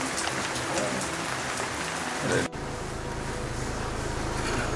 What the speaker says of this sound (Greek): πολύ βροχή